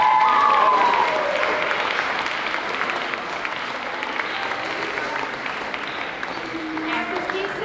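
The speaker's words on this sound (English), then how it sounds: "Students, a round of applause for our teachers." An audience at a St. Demetrios pinning ceremony applauds the teachers, a dense wash of clapping that starts loud and then settles into a steadier, slightly softer patter, with a few voices mixed in.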